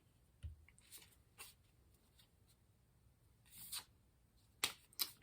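Tarot cards being shuffled by hand during a reading, soft scattered rustles and sharper card flicks, close and quiet, ending in two crisp snaps.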